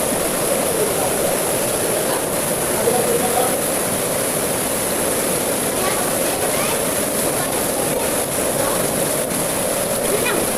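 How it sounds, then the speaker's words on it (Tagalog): Loud, steady rushing water roars continuously without pause inside Cantabon Cave in Siquijor, a dense broadband wash that fills the whole space. "Sabi niya malakas yung tubig sa halfway ng cave."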